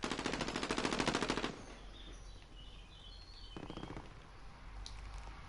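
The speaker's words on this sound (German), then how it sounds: "Wo schießen denn die?" Automatic gunfire in a PS4 online shooter, a fast rattling burst of rapid shots for the first second and a half, then quieter ambient game sounds with faint chirps and a short distant burst later.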